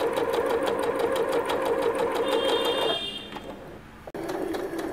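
A sewing machine fitted with a pintuck foot stitches pintucks in a steady, rapid mechanical chatter for about three seconds, then slows and stops with a short click before whirring briefly again; close and loud, no talking.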